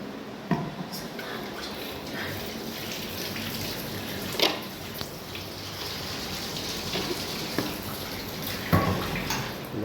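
Water is poured into a jug of freshly squeezed lemon juice for lemonade, with ice added. The faint, steady trickling and splashing is broken by a few brief clinks, with voices talking quietly.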